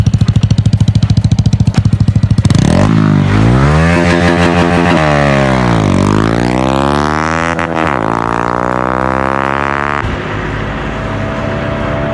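Honda Wave 110i motorcycle fitted with an 8-hole fuel injector and set to mode 2 on E20 fuel, revving hard. The engine rises and falls in loud, close sweeping pitch, alone with no talk.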